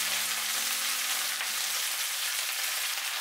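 Chinese cabbage dropped into hot oil with chopped garlic, producing a loud, continuous, hissing sizzle close up with no pauses and no voices.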